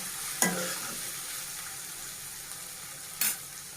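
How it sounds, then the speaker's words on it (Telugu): Ginger garlic paste frying in a pan for a white brinjal fry gives a soft continuous sizzle, with two sharp scrapes of a spatula against the pan, no voices. "అల్లం వెల్లుల్లి పేస్ట్ కొంచెం పచ్చి వాసన పోయినంత వరకు ఇలా ఫ్రై చేసుకోవాలండి"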